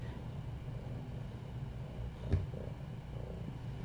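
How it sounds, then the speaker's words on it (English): A cat purrs steadily and close by while attacking a scratching post, a low continuous rumble with a brief scratchy thump partway through. "She's purring so loud as she tries to kill the scratching post"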